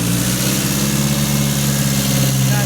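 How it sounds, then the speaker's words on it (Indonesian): A car engine idles steadily at close range during a routine service check, a low even rumble with a constant hum and no pauses throughout. "Kita nyalakan dulu mesinnya."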